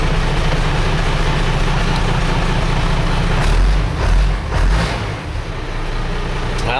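A Ford L8000 truck engine idling through a newly fitted exhaust, a loud, steady low rumble close by with a brief dip and swell in the middle.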